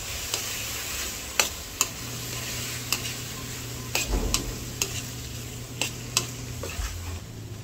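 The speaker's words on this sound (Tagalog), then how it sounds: "At kailangan pong hahaluin." Boiled squid being stirred in a pan for squid adobo with string beans, with utensil scrapes and taps landing at an irregular pace over a steady low sizzle and hum. The sound is close and clear, with no voices.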